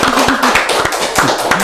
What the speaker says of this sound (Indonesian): Tepuk tangan, ayo.